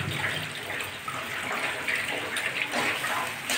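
Water being poured into a cooking pot of potato and green papaya curry, a steady continuous splashing pour close by, with no talk.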